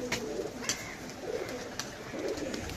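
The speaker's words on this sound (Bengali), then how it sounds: "তারপরে যে এইখানে আরও বেশ কিছু কবুতর আছে" Pigeons in a loft holding a flock of several hundred birds, giving low repeated cooing in soft bursts, with faint bird calls and light flutter behind, moderately close with no talk.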